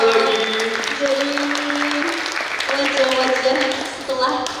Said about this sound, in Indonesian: Beri tepuk tangan yang meriah dong